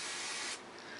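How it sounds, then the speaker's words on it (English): Hairspray blasts from an aerosol can onto a brush in one loud, close hiss lasting about half a second, then drops to a softer trailing spray. "you're like literally going to saturate the brush with hairspray"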